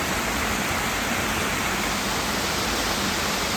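A waterfall fed by hill springs near Araku, heard as a dense, constant rushing roar, loud and close, with no breaks or other sounds.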